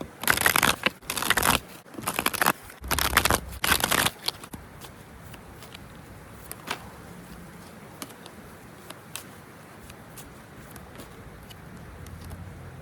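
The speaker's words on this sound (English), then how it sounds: "Let's shuffle your deck and let us see" Several quick bursts of tarot cards being riffled and shuffled close up, then quieter sporadic taps and soft handling sounds.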